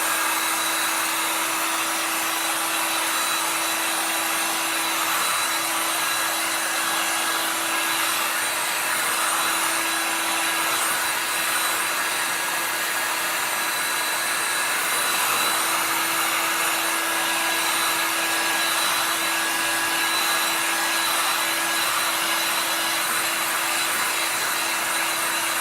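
A hair dryer blowing steadily on a painted pumpkin craft piece, a constant close, loud airy whoosh with a steady hum, running alone without pause.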